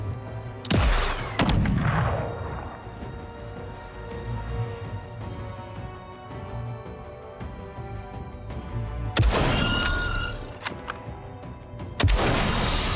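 Video game gunfire cracks in sharp bursts: a loud volley at the start, scattered shots through the middle, and heavier blasts near the end, all fairly close and without voices.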